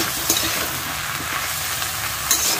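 A pan of simba (flat bean) dish fries on the stove, a loud, continuous sizzle with occasional stirring scrapes and no voices.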